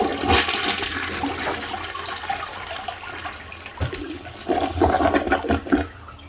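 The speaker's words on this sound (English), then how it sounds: "Let's flush it again." A toilet bowl being flushed during a deep clean with acidic cleaner, a loud rushing gush of water that swirls and gurgles, with a second surge of splashing toward the end.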